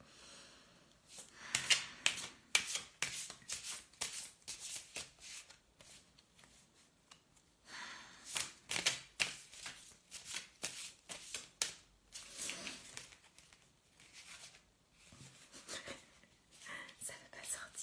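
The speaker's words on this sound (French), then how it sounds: "je vais te tirer la carte du jour et on va débuter" A kawaii tarot deck is shuffled close up and cards are drawn, making quick papery riffling bursts and flicks over quiet whispered speech.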